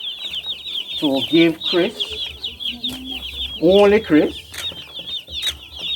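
Chickens cluck and call on a farm in St. Elizabeth, Jamaica, a busy run of bird sounds mixed with people talking over them throughout.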